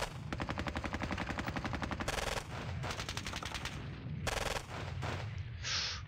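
Rapid machine-gun bursts and heavy gunfire from tanks in the wargame Squad Battles, loud sustained rattling with short pauses between volleys.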